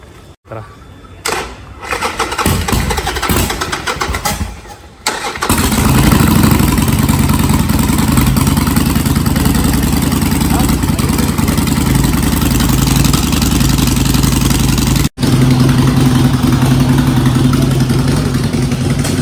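A Royal Enfield GT 650 motorcycle, after a few short cranking and start attempts, catches and settles into a loud, steady parallel-twin rumble up close, with a brief dip before continuing.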